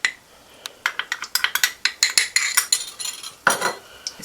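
A metal spoon stirs cardamom powder into melted ghee in a pan, giving a run of quick, bright clinks and scrapes against the metal, close and fairly loud, with no talk.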